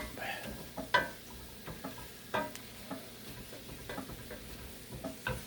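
Cabbage and kielbasa stirred in an enameled cast iron pot, a utensil scraping and clinking in sharp irregular knocks over a faint steady sizzle, close and fairly quiet.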